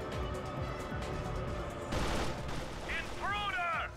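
Dense bursts of gunfire from the shooter game 007 Agent Under Fire rattle continuously, swelling louder midway, with electronic game effects chirping near the end and no talking.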